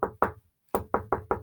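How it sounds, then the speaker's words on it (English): Someone knocks on a hotel room door in sharp, loud raps: two quick knocks, a short pause, then four more in an even rhythm, heard alone and close. "they were knocking."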